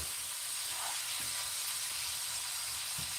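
Chili dog meat sizzling in a hot pan, giving a steady broad hiss that holds even and constant throughout, close up with a few faint low knocks and no speech.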